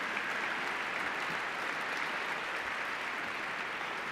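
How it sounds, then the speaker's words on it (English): Steady applause from an audience at a National Science Bowl awards ceremony honoring the middle school champion team, a dense, even wash of many hands clapping, moderately distant and uninterrupted. "Nice round of applause for Greater Boston Science and Math Team"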